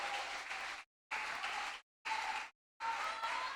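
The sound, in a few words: applause from church congregation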